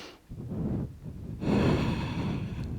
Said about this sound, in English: Inhale, nice and slow. And exhale.